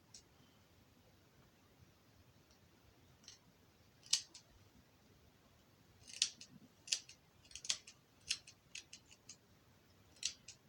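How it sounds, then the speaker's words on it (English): Scissors snip through a beard in short, crisp clicks, a few isolated cuts at first and then a quicker run of snips, close by and fairly quiet with no voices. "Just keep cutting. I'm going to go ahead and trim off this beard."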